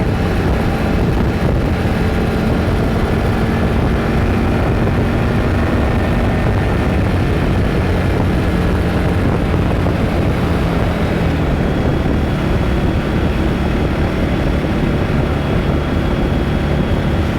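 A 2023 Indian Scout Rogue motorcycle engine revs hard at high RPM, a steady, loud, dense roar that holds for the whole stretch, with wind rush over the microphone and no talking.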